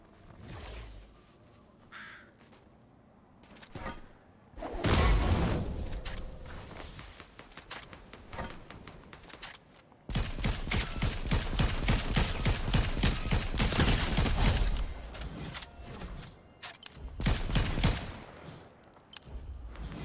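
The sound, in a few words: gunfire in the video game Fortnite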